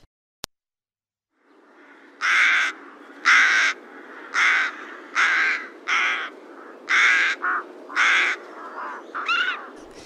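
Rook calls ring out as a series of about eight harsh, loud caws in an irregular rhythm, the last few shorter and weaker, over a low steady background hum.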